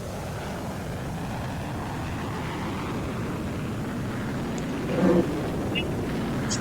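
Steady roaring engine of an SU-27 jet in a flight game, a continuous broad rumble holding even throughout with a brief louder swell near the end, under a calm voice.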